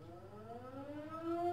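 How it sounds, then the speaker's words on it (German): A civil defense siren wails alone, its tone steadily rising and growing louder. "jetzt kommt gleich wieder die fucking Sirene"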